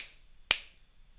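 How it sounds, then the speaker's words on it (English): A single sharp finger snap, close and crisp, made to trigger a ROBOTIS PREMIUM smart robot car, standing alone against a quiet room. "You should be looking for any kind of clap or snap."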